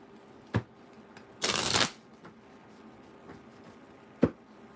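Tarot cards are picked up and shuffled in a quick riffling burst lasting under half a second, framed by a couple of soft taps of cards set down, close and without talk.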